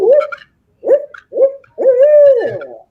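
A voice imitates an owl hoot as a hunting locator call, four loud, close, tonal hooting phrases with short gaps, the last one long and drawn out, with no other sound around them.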